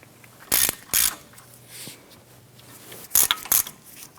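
Ratchet wrench snugging caliper slide pin bolts on the front steering knuckle of a 1997-2006 Jeep Wrangler, heard as two pairs of short, close, crisp mechanical clicking bursts separated by a quiet pause.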